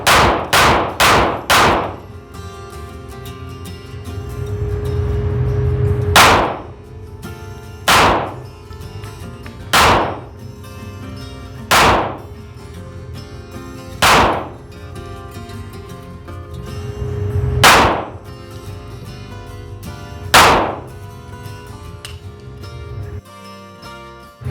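Pistol shots from a custom SIG P365 with an improved grip, fired offhand at an outdoor range: a quick opening cluster of cracks, then single sharp reports spaced a couple of seconds apart, loud and close, with little talk.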